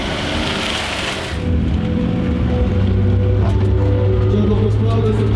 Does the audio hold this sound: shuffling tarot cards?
no